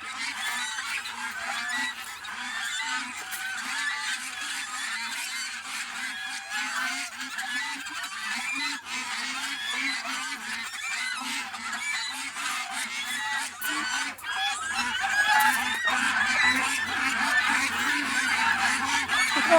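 Constant loud honking from many geese close by, an unbroken clamorous chorus that grows a little louder toward the end.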